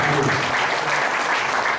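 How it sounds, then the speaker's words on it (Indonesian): A church congregation breaks into steady, dense applause, a broad wash of many hands clapping together at full loudness, with no clear speech over it. "tepuk tangan dulu buat Tuhan Yesus Kristus"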